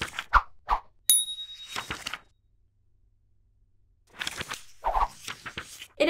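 A short bright bell ding rings once among other brief clicks, thunks and pops, with gaps of silence between bursts of sound.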